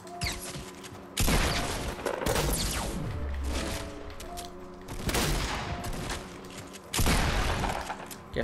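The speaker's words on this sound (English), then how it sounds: "I can't see how I missed that many shots" Rapid bursts of gunfire in the Fortnite Battle Royale video game, several loud volleys of repeated shots with short gaps between them, close and dense, with no talking over them.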